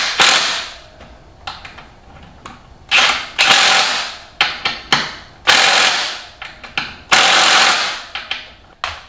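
A hand ratchet snugs the right side of a dirt bike wheel axle after a wheel bearing replacement. It gives repeated bursts of quick, loud metallic clicking separated by short pauses, close up and with no talking.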